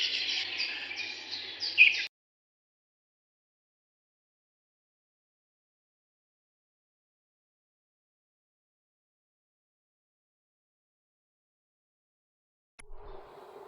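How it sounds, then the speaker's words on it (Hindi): A songbird trills sweetly in a bright, high burst for about two seconds, then everything falls silent until a faint low sound near the end. "चिड़िया अपनी मधुर आवाज में गा रही थी।"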